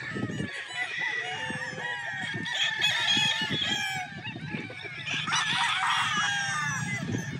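An early bird bloodline gamefowl rooster crows loudly and close, with long drawn-out calls over clucking and other fowl sounds around the yard.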